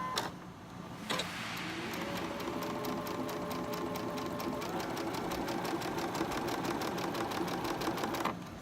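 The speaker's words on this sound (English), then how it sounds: "Now I'm going to sew these." A sewing machine stitches quilt block pieces together for a large present block, running in a fast, steady mechanical rhythm after a brief start, close and loud with no talk over it.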